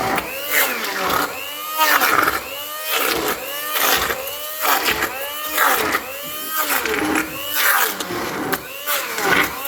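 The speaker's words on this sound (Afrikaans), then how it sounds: "dan blend jy hulle" A kitchen blender pulses through soaked ingredients in repeated loud whirring bursts, each rising and falling in pitch, close and dominant for the whole stretch.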